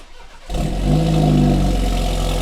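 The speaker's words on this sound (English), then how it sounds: "This is the first time we're gonna hear the AWE exhaust on a 330i." A BMW G20 330i with an AWE Touring exhaust fires up and revs hard, its loud, deep exhaust roar rising and holding steady close by.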